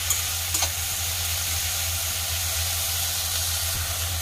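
Tomatoes and spices fry in a pan for matar paneer, a steady soft sizzle and hiss with a faint scrape of stirring, close and continuous with no voices.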